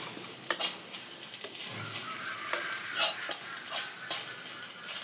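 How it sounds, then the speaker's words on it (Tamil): Okra thoran being stirred in a frying pan, a spoon scraping and clinking against the pan in repeated strokes over a steady close sizzle, with no talking. "போட்டு கிளறணும்."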